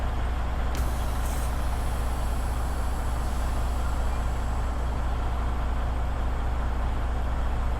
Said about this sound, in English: I would like to check my trailer brakes by releasing my parking brakes